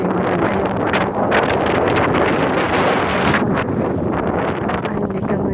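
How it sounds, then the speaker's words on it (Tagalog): Strong wind blows outdoors in bad fishing weather, buffeting the microphone with a loud, continuous rushing roar that surges and eases in gusts, with no voices heard. "Kaya lang mahangin pa rin, hindi maganda yung panahon."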